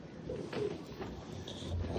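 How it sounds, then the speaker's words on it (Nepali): Soft cooing of a medium-sized pigeon, low and muffled against faint background hiss, a couple of brief murmured calls with no talking. "परेवा चाहिँ यो गाइज है, कस्तो छ, एकदम मिडियम साइजको छ है परेवा"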